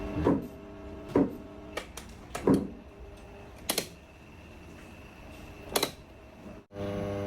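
A faulty electric fan's steady motor hum carries irregular loud rattling clacks about once a second, cutting out briefly near the end before the hum returns.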